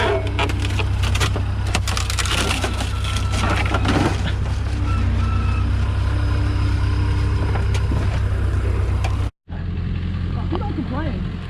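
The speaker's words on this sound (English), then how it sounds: "thanks for ripping the bed off here. That was definitely a lot easier to do here with a skid loader" A skid loader tears the bed off a pickup truck with loud, grinding, splintering crunches over a steady low engine drone, ending in a sudden cutoff and then quieter rattling.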